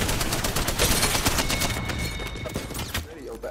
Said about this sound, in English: Mike, shoot this nigga, shoot this nigga, shoot this nigga